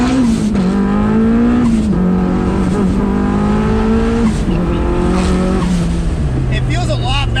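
A car's turbocharged engine drones steadily close by as it drives through the gears, the engine note stepping up and down with shifts, loud and continuous, with talk over it.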